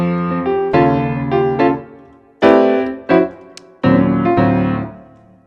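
A keyboard or piano plays a simple chord-based tune with a pedal note held for just one chord, several sustained rich chords struck in sequence and ringing out, close and loud with no talking.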